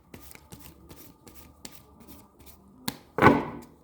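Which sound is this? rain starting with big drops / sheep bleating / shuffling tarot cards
shuffling tarot cards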